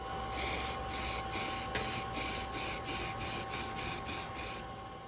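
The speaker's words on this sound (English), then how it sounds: "the first thing we need to do is spray it white, and we have ourselves some gloss white" Short bursts of gloss white spray paint hiss from an aerosol can onto canvas, about ten evenly paced sprays close by, with a faint steady tone underneath.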